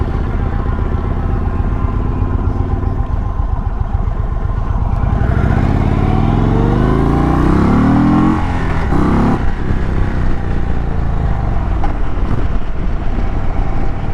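Suzuki GSX-S motorcycle engine accelerating hard at a beach-town bike festival in Ocean City, Maryland, a loud, continuous close-up roar whose pitch climbs steeply through the revs, then drops and settles back.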